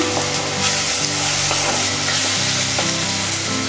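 Steady loud sizzling of onions and paste frying in a hot pan for cauliflower pepper gravy, with occasional stirring scrapes, continuous throughout without talk.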